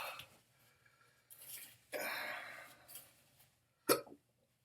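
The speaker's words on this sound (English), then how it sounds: "Wow, got a hiccup." Sharp, close hiccup right after eating a very hot Yellow Moruga pepper pod, a single abrupt burst following quieter mouth and breath sounds.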